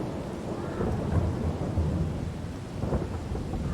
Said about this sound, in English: It's clear skies over there, but where I am it's raining.